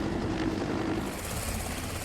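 A helicopter flies over polar ice near the North Pole, a dense continuous rotor and engine roar, steady and fairly loud throughout with no talk.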